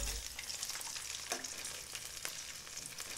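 Chicken stock poured into a hot pan hisses and sizzles steadily, with faint stirring clatter, close up and fairly quiet.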